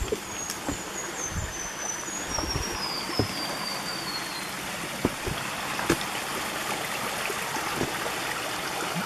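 Small stream of water flowing among rocks in a dry creek bed, a steady close rushing trickle that runs alone throughout with a few brief knocks.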